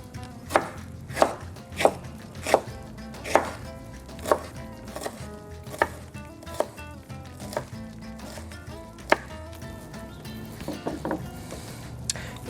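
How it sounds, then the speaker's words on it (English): A knife chops jalapeño peppers, seeds and all, into small pieces for a spicy chili, sharp board knocks falling in a fairly steady rhythm that loosens and softens toward the end, close up and with no talking. "All we want is a nice small chop on these jalapeños, and we want seeds and all, so we'll just go ahead, chop it down"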